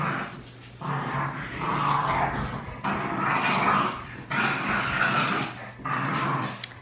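Dogs growl, whimper and bark in repeated bursts, close and loud, for several seconds without any talking.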